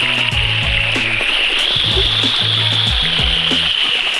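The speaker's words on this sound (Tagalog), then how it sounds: "Ito yung pinaka falls." Anyap Falls in a nature park fills the air with a loud, steady rushing roar of falling water, constant and close, with low hums and voice-like tones running underneath.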